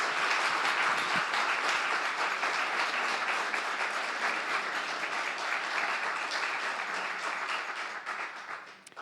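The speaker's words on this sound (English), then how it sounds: "please give a round of applause to these two wonderful artists here" A gallery audience at a quilting exhibition opening applauds two artists, steady clapping from a modest crowd that holds evenly and then tapers off near the end.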